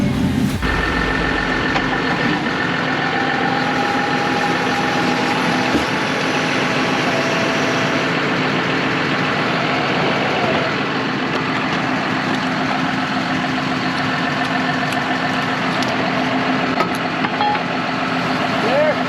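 A tractor engine idles steadily and close by for the whole stretch, a continuous low rumble with a faint steady whine, while people talk over it in a rural yard where a John Deere lawn mower is set to tow.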